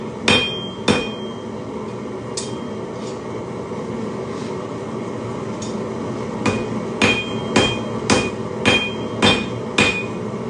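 Sharp metallic hammer strikes on metal at a forge ring out, sparse at first, then a steady rhythmic series of loud, close blows toward the end.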